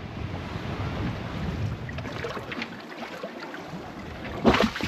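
Boat hull slapping against waves at sea after a stretch of rougher water, heard as steady wind and water wash with a louder close splash and knock near the end; no one speaks.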